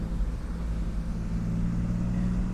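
A Porsche Boxster 986 roadster with its engine note held steady as it circles a roundabout, a continuous low drone heard from close by at moderate loudness, with no talking.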